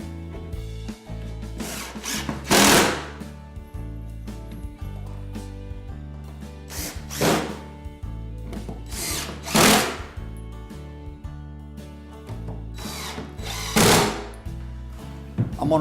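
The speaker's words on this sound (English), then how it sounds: "I'm just going to go ahead and put some screws in here." Power drill driving screws into a wooden bed frame, several short whirring bursts with rising pitch at close range, separated by quiet pauses and a low hum.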